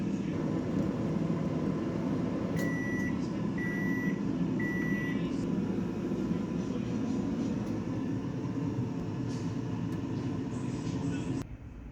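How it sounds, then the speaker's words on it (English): A microwave oven heating custard tarts gives a steady hum throughout, broken by three short electronic beeps partway through before the hum cuts off at the end. "So this one's been in the microwave for 55 seconds and it is hot."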